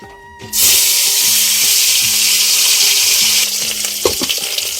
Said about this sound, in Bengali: তো দেখো তেলটা আমার গরম হয়ে গেছে, এখন আমি এখানে ডিমটা দিয়ে দেবো।